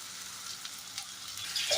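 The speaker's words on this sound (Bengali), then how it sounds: "তো সমস্ত মাছের পেস্টটা আমি এখানে দিয়ে দিলাম আর মশলার সঙ্গে আমি খুব ভালো করে এভাবে কষিয়ে দেবো" Fish paste cooking down with spices in a pan for fish kachori, a soft, steady sizzle that swells slightly at the end.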